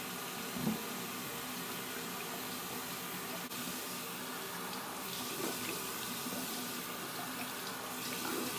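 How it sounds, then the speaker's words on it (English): Water runs steadily from a bathroom sink tap as someone washes their face, a constant hiss of flow that stays even and close throughout with no talking. "I need to wash my face"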